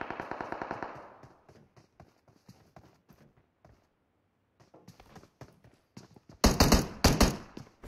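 Rapid gunfire from a shooter video game comes in quick repeated bursts, a close rattle at the start and a louder burst near the end, with scattered shots between them.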